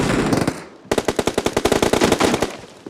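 Automatic gunfire in PUBG, with a short burst followed by a long, rapid, evenly spaced string of close, loud shots, each a sharp crack in a fast mechanical rhythm.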